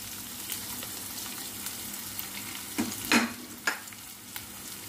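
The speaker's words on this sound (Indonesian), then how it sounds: "bawang putihnya sudah kuning, kita masukkan bawang merahnya ya" Shallots fry with garlic in a pan, giving a faint, even sizzle with a few sharp utensil taps near the end.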